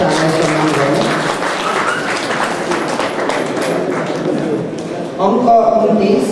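Audience applause at a Nepali award ceremony honouring an organisation: a dense, steady wash of clapping from a crowd, continuous throughout and swelling slightly louder near the end.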